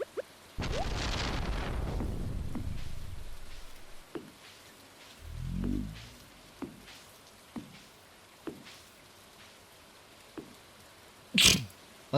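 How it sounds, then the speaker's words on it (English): A single rough, loud human sneeze bursts out early, a sharp broadband blast that fades over a couple of seconds, followed by quiet with scattered small clicks and thumps. "was a rough sneeze."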